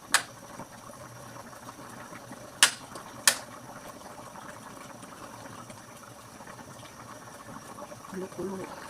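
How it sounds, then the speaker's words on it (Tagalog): A pot of sweet and sour tilapia sauce with potatoes simmers on the stove, a low bubbling under a spoken voice, broken by a few sharp clinks of a utensil against the pot. "Kulo-kulo."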